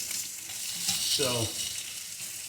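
Sous vide lamb chops sear in a hot pan on a kitchen stove, a loud crackling sizzle with a brief hiss of spattering oil mid-way, while a voice speaks one short word.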